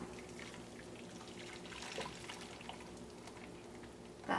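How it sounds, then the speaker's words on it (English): Blended broccoli cheese soup poured from a blender back into a pot, a soft continuous liquid gurgle and splash close by, ending with a brief louder clink. "So now we're gonna pour it back into the pot."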